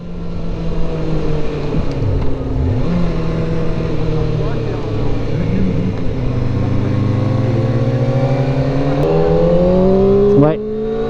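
Kawasaki ZX4-RR motorcycle engine climbing to 10,000 rpm, a loud, close, sustained whine with rising and falling pitch sweeps and a final sharp rev near the end, with people talking over it.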